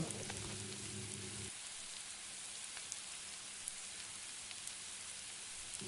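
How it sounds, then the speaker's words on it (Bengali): Hilsa fish frying in oil in a pan, a soft, even, rain-like sizzle that runs the whole time, quiet and steady with a low hum fading out early on. "এবার আমি এদিকে একটা প্যান বসিয়ে তাতে তেল দিয়ে হালকা হালকা মাছগুলো একটু ভেজে নেব"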